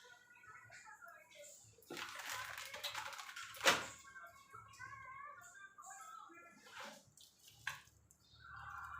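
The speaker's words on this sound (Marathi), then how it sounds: "ह्याच्यामध्ये आपण फ्लावर टाकून घेऊया." Cauliflower florets dropped into a pot of boiling water while cooking a wedding-style cauliflower dish: a single sharp splash midway through, with bubbling water beneath and someone talking throughout.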